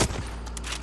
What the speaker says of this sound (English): did she just throw a grenade at me?